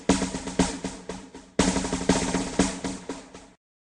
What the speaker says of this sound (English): A drum sounds like this.